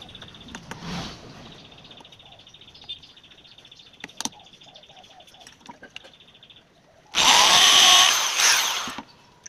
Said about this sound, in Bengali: এই চাকতিটার মাঝখানে ফুটো করা হচ্ছে যাতে স্পোকটা